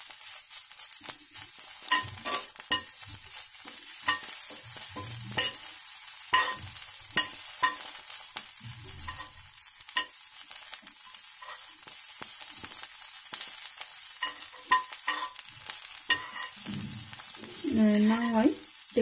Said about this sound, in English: I saute here only for rawness goes out in this way.